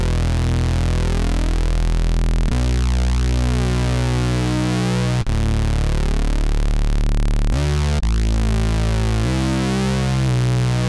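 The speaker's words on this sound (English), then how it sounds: "here's that first simple bass sound on its own" A thick, saturated synth bass with light EQ holds long notes that shift pitch every couple of seconds, with a wide, shimmering chorus, playing alone without any voice.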